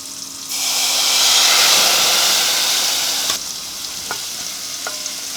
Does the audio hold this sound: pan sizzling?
yes